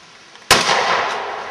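A single sharp gunshot fired at a microwave cracks out loudly after a short quiet lead-in, then decays into a lingering outdoor echo.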